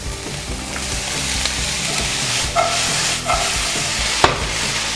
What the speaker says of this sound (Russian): Лук обжарился, добавляем перец.